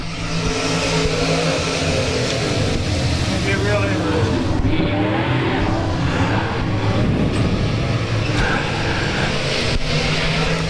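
Race cars roar around turn 4 at South Texas Speedway, a loud, dense, continuous wall of engine noise from a pack of cars. An announcer talks over it throughout.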